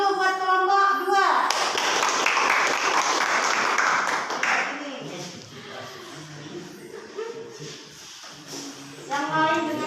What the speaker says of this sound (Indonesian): Kasih aplaus dulu, kasih semangat dulu buat kelompok 2.